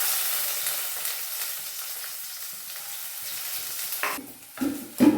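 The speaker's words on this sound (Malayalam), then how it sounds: "ഉള്ളി ഇട്ട് കൊടുക്കാം" Chopped onions hit hot oil with popped mustard seeds, giving a steady close sizzle that fades slightly before a few sharp stirring knocks and clatters near the end.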